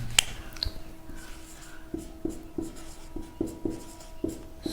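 Chalk or marker writing on a board in a Hindi grammar classroom, a series of soft, regular taps and short scratches at moderate distance, alone without talk.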